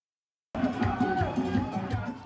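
A crowd of protesters in Port-au-Prince, Haiti, angry over the rising cost of living, rises abruptly out of silence into a steady outdoor murmur of many voices and movement, with people talking throughout.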